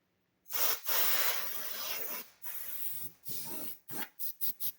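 Cleaner spray hitting a gaming PC rig and its keyboard, one long hiss and a few medium bursts, then four quick short puffs in a row, close and loud against silence.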